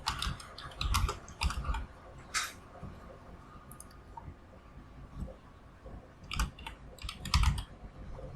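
Bursts of quick, close key clicks on a computer keyboard as a name is typed in, several short clusters separated by brief pauses with a faint background hum.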